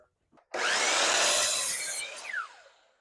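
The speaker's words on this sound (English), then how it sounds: "So let's go over to the miter saw and just start cutting angles and testing it out." A miter saw spins up and slices through a wooden board for an axe throwing stand, a loud continuous whine and rasp lasting about two seconds before winding down alone.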